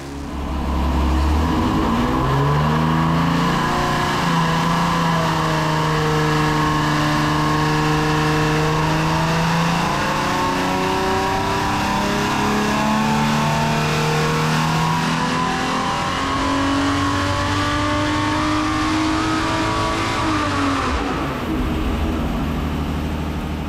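A Jeep engine is revved hard in a dyno cell, roaring loud and close through long climbing pulls with the pitch rising steadily before dropping back near the end.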